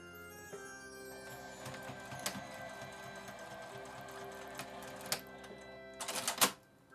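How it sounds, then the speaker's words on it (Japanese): A sewing machine stitching a fabric face mask, a close steady mechanical whir with rapid needle clicks, punctuated by a few louder clacks and a jingling rattle near the end. "ここにミシンをかけます。"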